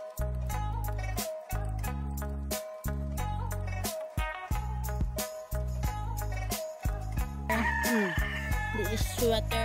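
Sweater gamefowl roosters on a cockfighting farm crow repeatedly and loudly nearby, their calls overlapping, with clucking between them and a sharper, higher call near the end.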